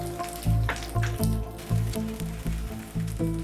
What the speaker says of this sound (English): Let all the powdered ingredients fry in oil until they release their aromas